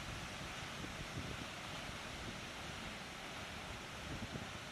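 A waterfall in a Kenyan park gives a faint, even, continuous rushing roar with no breaks, heard from a distance without any voices.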